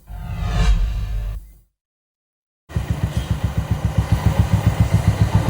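A motorcycle engine on a road trip across India, loud and close, with a steady drone, a sudden gap of silence, then returning with a rhythmic pulsing throb as the bike rides on.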